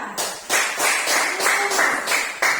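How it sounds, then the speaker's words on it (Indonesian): Classroom applause for a student, a short run of brisk claps from a group of children in a steady, close rhythm. "Tepuk tangan untuk Dija."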